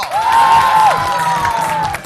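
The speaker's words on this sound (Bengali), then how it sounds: "একটা জোরে হাত তালি দাও" An audience bursts into loud applause and cheering at a children's comedy show, the clapping dense and close for about two seconds under a sustained tonal sound.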